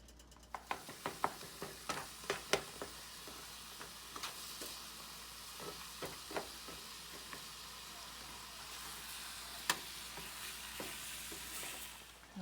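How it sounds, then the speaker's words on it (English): Ground pork fries in a heated pan with a faint, steady background sizzle, punctuated by irregular light clicks and taps of a utensil against the pan, quiet and without talk. "now we are heating up a pan so we can fry up the ground pork"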